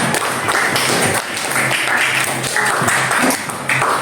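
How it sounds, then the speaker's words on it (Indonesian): Students in a classroom give a burst of steady group applause, a dense wash of many hands clapping together, close and loud, with faint voices mixed in. "tepuk tangan untuk kalian semua"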